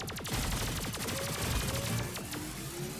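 Rapid gunfire in the game Terminator 2: No Fate, a dense run of sharp repeated shots with ringing tones, loud and continuous throughout.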